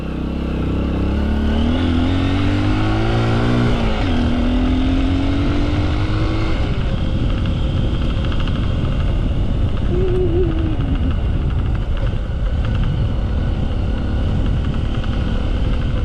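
Honda XR150 dual sport motorcycle riding along, its single-cylinder engine droning steadily and close throughout, with gear shifts and rising revs early on and a steady cruise after.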